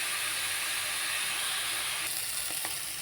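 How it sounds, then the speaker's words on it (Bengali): Bitter gourd slices fry in hot oil in a home kitchen, giving a steady, loud broadband sizzle that runs unbroken through the whole stretch, with a couple of faint knocks near the end and no talking. "এই দেখো আমি তিতা কেলাটা লাল লাল করে ভেজে নিয়েছি।"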